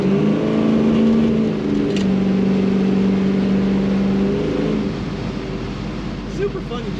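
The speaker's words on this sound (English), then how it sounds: "You just want to hit the throttle to hear that exhaust." A 1969 Chevrolet Camaro Z28 tribute's V8 drones steadily at idle then revs, its exhaust rumbling loud and close for several seconds before easing to a lower, rougher burble.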